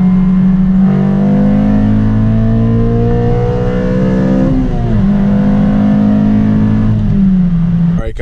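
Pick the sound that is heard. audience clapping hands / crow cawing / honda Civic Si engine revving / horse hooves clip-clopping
honda Civic Si engine revving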